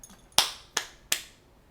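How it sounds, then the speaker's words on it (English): Three sharp, evenly spaced claps ring out alone, each crisp with a quick decay. "And his uncle's right there clapping."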